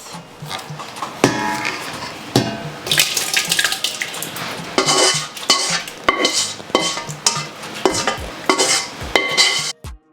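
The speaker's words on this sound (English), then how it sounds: "So I have to switch to my biggest pot." Big cooking pot handled while preparing Ugandan-style chicken curry: metal clanks, scrapes and knocks against the pot arrive in irregular bursts, mixed with splashing and running water, close and fairly loud.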